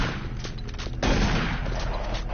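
An enemy machine gunner firing in the shooter game Doom 3, a rapid burst of gunfire that grows louder and denser after the first second, up close with no talk.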